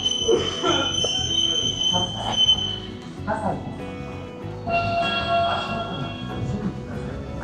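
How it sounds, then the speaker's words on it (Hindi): A crowded commuter train in Tokyo pulls in at rush hour, with rumbling carriages and high, thin wheel squeals over a busy platform, while a voice talks nearby. "अभी भाई अगली ट्रेन ये वाली मुझे पकड़नी पड़ेगी कुछ भी करके"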